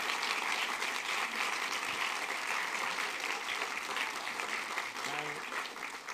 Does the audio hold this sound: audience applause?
yes